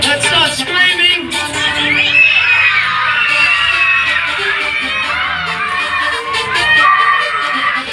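Big outdoor crowd at a monster truck show screaming and cheering continuously, many children's high-pitched shouts mixed in, loud and sustained throughout.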